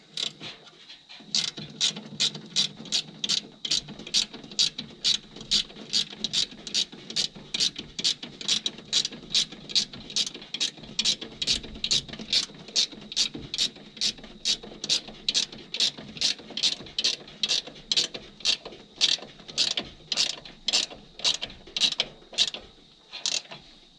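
A hand ratchet clicks steadily in a long, even run of rapid pawl clicks while snugging a bolt on the front brakes of a 1967 Chevy II, close and clear with no talking.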